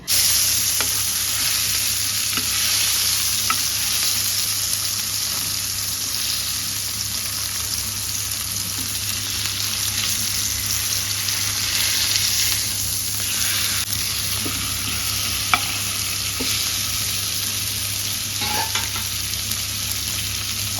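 Jilebi fish frying in a pan with mint, green chilli, curry leaves and coriander, a steady loud sizzle close by that runs without pause, with a few faint scrapes from stirring and no talk.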